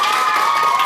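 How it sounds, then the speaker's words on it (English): A brief, loud burst of crowd cheering and applause greets a teacher honored as Teacher of the Week at a school gathering. Voices call out over the clapping. "Give her a big round of applause."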